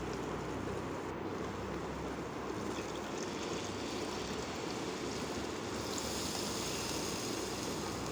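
Tamarind water is poured into a simmering tomato fish curry gravy, giving a steady broad wash of liquid noise that holds evenly throughout without talk.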